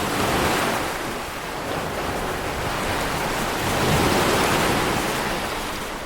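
Stormy North Atlantic Ocean waves roar in a dense, continuous wash of surf with windy rumble, loud and unbroken, swelling slightly near the middle and alone with no voices.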